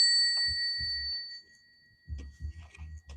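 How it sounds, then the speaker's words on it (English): A bell rings with a sustained, bright metallic tone that holds steadily and then fades, followed by softer low thumps after a pause. "We're going to ring the bell"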